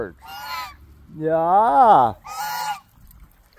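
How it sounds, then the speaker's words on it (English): A big goose-like bird honking close by, three loud nasal calls with the middle one longest and rising, and a brief spoken word between them. "oh, and a big bird"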